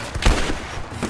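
Gunfire in the video game Rise of the Tomb Raider, one loud, rough blast bursting out and fading quickly within a second.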